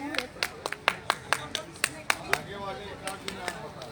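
Audience at a Hindi poetry gathering clapping in a scattered, uneven burst of individual claps from a small crowd, fairly close, with talk going on underneath.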